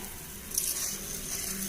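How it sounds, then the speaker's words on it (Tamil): Steady bubbling and hissing of water boiling in a pot for tomato rice, a constant close simmer with no voices. "இப்போ பாருங்கள் கொதிக்க ஆரம்பிச்சிருக்கு"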